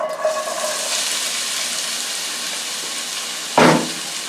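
Chopped large onion tipped into hot olive oil in a pan, giving a sudden loud sizzle burst near the end after a steady background hiss.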